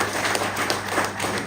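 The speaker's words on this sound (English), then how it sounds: "Can we give a round of applause to all of us" Brief burst of audience applause at a political party manifesto launch, a dense patter of many hands clapping together, fairly loud and close, with no talk over it.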